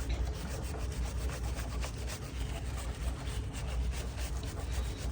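A brush scrubs at the grimy chain carrier of a Ducati S2R 1000 Super Naked motorcycle, a continuous close rubbing and scraping with steady back-and-forth strokes, heard alone without talk.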